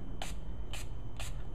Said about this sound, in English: So I'll spray the striker first